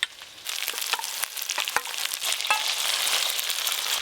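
A yogurt and spice paste hits a hot pan in a silver carp curry, and a loud burst of frying sizzle rises up close, with a few sharp clinks and stirring sounds.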